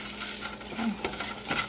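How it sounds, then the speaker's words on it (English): A soft, steady sizzle of rice browning in a pan for Mexican rice, with light scraping and stirring clatters from a utensil. "My rice is already sizzling, so gotta stir it a little bit."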